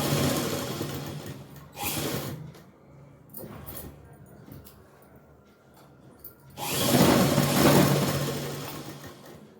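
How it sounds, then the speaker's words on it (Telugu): A sewing machine stitches a traditional cloth purse, starting at the corner, in two loud close bursts of rapid whirring with quieter handling noises and pauses between them. "నేను మాత్రం దీన్ని ఇప్పుడు మూల మీద నుంచే కుడుతున్నాను"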